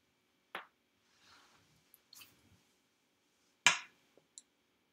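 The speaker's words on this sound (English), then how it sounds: "snap for cricket" A few sharp, isolated finger snaps, one near the start and a louder one later, with faint rustling between them in a quiet room.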